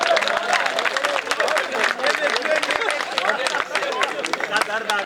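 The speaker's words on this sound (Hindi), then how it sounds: "तालियां कमाई है आपकी।" A crowd at a Hindi poetry gathering claps for a poet, with steady, dense applause over several seconds mixed with cheering and a murmur of voices.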